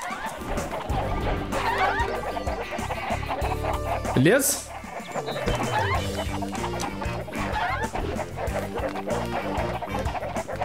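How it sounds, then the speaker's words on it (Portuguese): Chickens clucking and squawking in Shrek 2 on PS2, dense and busy alongside game music, crashing effects and a barking dog, with someone talking over the game sounds. "Vai, galinha!"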